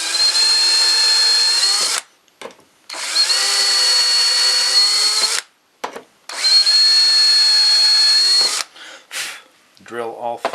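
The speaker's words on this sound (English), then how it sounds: "drill all 3 of those," A power drill fitted with a self-centering 5/64 Vix bit bores three pilot holes for screws in a wooden storage cabinet, three loud sustained whining bursts of about two seconds each, separated by short pauses, close up.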